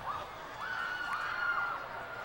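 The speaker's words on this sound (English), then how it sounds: "Crowd tried to get into it to convince the ref that it was not Menehune ball" Football crowd at a high school championship game shouting toward the referee, distant mixed yelling and cheering with a few voices rising in drawn-out calls above the general murmur, fairly faint throughout.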